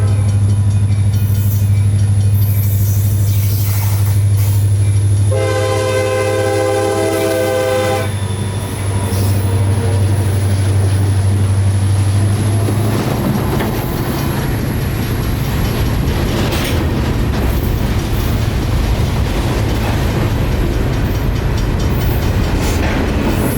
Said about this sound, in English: The train will be revving up to pick up speed here because he is coming out of a slowdown